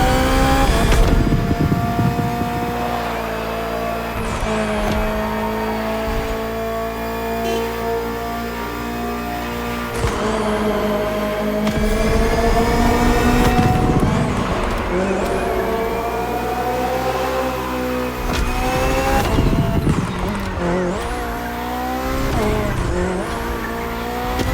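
The BMW M Hybrid V8 endurance race car in The Crew Motorfest, loud and close, its engine revving hard through repeated gear shifts, with tire squeal between pulls.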